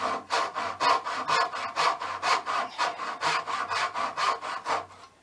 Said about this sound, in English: a little bit bigger than the saw kerf that is left by my saw